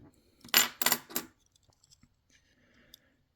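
A few quick metallic clinks of silver half dollar coins rubbing together while shuffled, close and bright, followed by faint small rattles and near silence.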